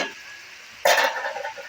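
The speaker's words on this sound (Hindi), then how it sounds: "और इसको अच्छी तरह भूनते हैं।" Spices including red chilli powder and crushed chillies fry and are stirred in a pan for a beef phaliyan gosht curry, a quiet hiss that suddenly swells into loud, close sizzling and scraping for the last second.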